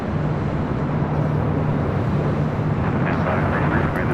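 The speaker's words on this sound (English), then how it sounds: "This flight coming in from Anchorage, flight 8127, 747-400 ER." Boeing 747-400ER freighter arriving at LAX from Anchorage, a steady distant jet roar with a low hum, continuous and even, with a voice faintly present.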